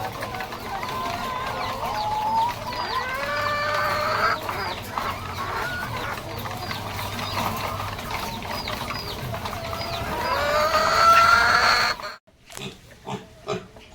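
Hens and roosters in a crowded coop of laying breeders, a continuous chorus of clucks and squawks close by, swelling loudly near the end before breaking into a few sparse calls.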